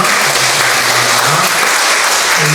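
Loud, steady congregational applause thanking a pastor at a Korean church service, dense clapping with a faint voice murmuring beneath.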